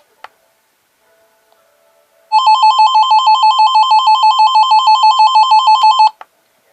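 A First Alert SFA1135 AM/FM/weather band radio sounds its alert, a loud rapidly warbling electronic tone running steadily for about four seconds after a couple of soft clicks, then cutting off.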